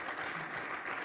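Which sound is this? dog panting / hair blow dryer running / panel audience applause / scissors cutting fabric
panel audience applause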